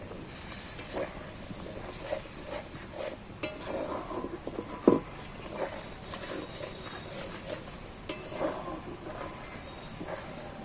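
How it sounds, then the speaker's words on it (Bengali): A spice paste with yogurt is sautéed in a pan for a chicken curry, with soft scraping strokes of a spoon, light sizzling and occasional clinks against the pan, close and fairly quiet. "দইটা দিয়ে মশলাটাকে একসির সাথে কষিয়ে নেব"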